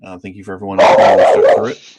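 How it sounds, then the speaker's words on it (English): Dog barking, a burst of loud, close barks overlapping near the end of a man's spoken thanks, then a short fading tail. "That's my dog."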